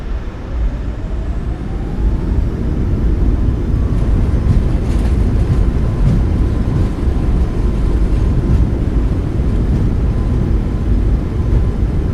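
Simulated Boeing 737 MAX 8 rolling out after landing at Svalbard with thrust reversers deployed, a loud steady roar of engine and rushing wind that holds constant for the whole stretch, with no talk over it.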